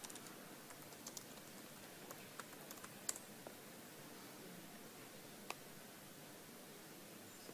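Light keyboard typing on a computer during an Android app demo, a quiet spread of soft clicks with a few sharper taps over steady background hiss, no talk.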